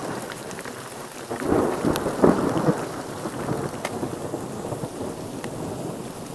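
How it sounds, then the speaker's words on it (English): Steady rain patters through a thunderstorm on a forested Appalachian ridge line, with a louder rumble of thunder rolling in the middle before the downpour continues alone. "thunderstorm on a ridge line"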